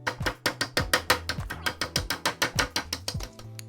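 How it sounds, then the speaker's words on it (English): Pork cutlets beaten flat with a meat tenderizer, a fast, steady series of sharp, loud thumps, about five per second, with no talking. "we're going to use any sort of tenderizer, and we're going to beat these down into probably about a 1/4 inch thickness"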